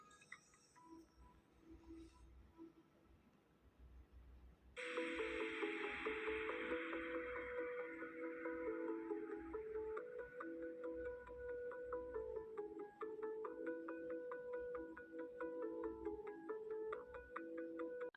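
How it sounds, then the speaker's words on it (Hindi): An electric sewing machine stitches a fabric strip over gathered cloth, starting up abruptly and running in a steady, close, whirring hum with a fine rapid ticking of the needle, after quieter handling noises. "अपने हाथ से चूनट को बैलेंस करके आपने इसके ऊपर सिलाई चलानी है।"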